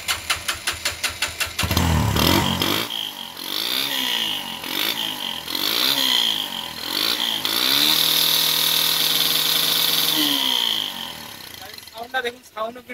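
A motorcycle converted from petrol to an LPG gas kit, kicked or cranked several times with rhythmic chugs before the engine catches and runs at a close, loud, steady idle with revs rising and falling, then cuts off.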